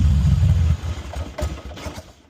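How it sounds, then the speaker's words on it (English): A motorcycle engine idles with the choke pulled out, starting as a loud, low, steady rumble that drops back after under a second to a quieter, uneven running murmur. "revving the engine until it feels and sounds warmed up enough to idle on its own"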